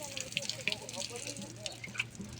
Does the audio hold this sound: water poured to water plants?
yes